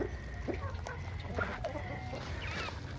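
Índio Gigante free-range chickens on a smallholding cluck in short, scattered calls over a steady low background hum, fairly close and moderately loud.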